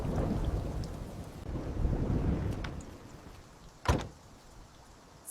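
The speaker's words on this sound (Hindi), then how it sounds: "बारिश ने तो छत हिला दी।" Heavy rain and a thunderstorm pounding on a roof, a dense wash of rain with low rolling thunder and one sharp crack near the end, fading slightly afterward.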